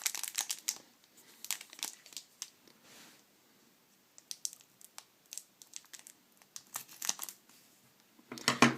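A Pokémon card pack wrapper is cut open along the bottom with scissors, giving close, faint bursts of crinkling foil and snipping separated by short pauses.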